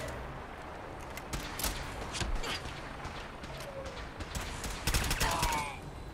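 Gunfire during a Fallout game battle at Warwick Homestead, a run of sharp cracks and short rapid bursts over a steady backdrop of combat noise, with louder clustered shots toward the end.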